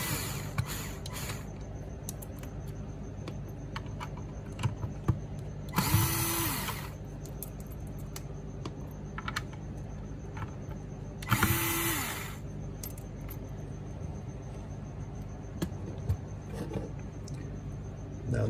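A power socket tool loosening nuts on a Sur Ron electric bike, with two short bursts of whirring close by over a quiet workshop background.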